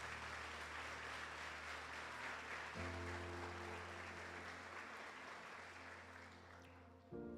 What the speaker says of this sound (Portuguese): Então aplauda ao Senhor Jesus.